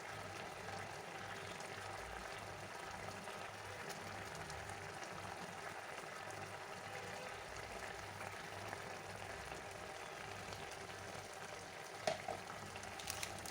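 Prawns sizzle steadily in a hot pan while cooking a young jackfruit and prawn dish, a constant, even frying hiss that holds for the whole stretch with no voices.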